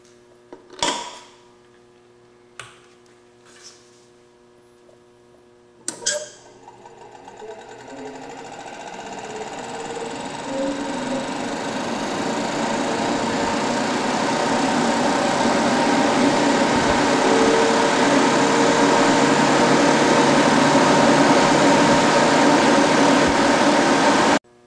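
A Rotor-Mate centrifuge loaded with a very full 10 mL specimen tube starts after a few clicks and spins up, its steady whirring hum building gradually and then holding a constant, fairly loud drone.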